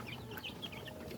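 Chickens cluck and chatter in a rural yard, a steady run of soft, fairly close clucks over a low background hum, with no voices.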